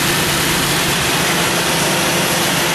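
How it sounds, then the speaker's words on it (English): A fuel-injected Jeep Scrambler engine idles high while still cold, a loud, steady, close-up rumble with a constant wash of noise and no breaks. "It's idled up a little high right now because it's cold"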